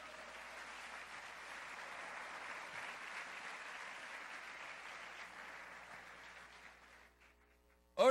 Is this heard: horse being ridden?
no